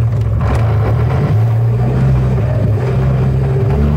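A Donkervoort D8 GTO 40 engine rumbles loud and close as it starts and pulls away, its deep drone rising in pitch as the car moves off, with no voices over it.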